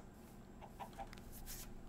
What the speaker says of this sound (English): Ah, chicken.